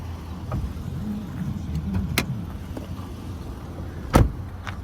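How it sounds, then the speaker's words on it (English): A 2012 Dodge Charger police PPV has its hood popped, with a sharp mechanical clunk around the middle and a louder, close latch pop near the end over quiet vehicle ambience. "Going to pop the hood."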